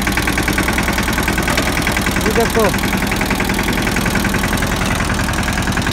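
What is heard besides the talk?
tractor engine running slowly with broken gear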